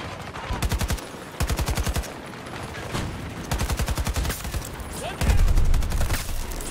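Loud, rapid bursts of automatic fire from an AK-24 rifle in the shooter game Battlefield. Several fast volleys are separated by short pauses, and a heavier blast comes near the end.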